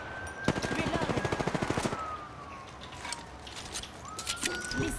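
A quick string of evenly spaced gunshots from an automatic weapon in Apex Legends, loud and close for about a second and a half, followed by scattered shots, clicks and a rising whine.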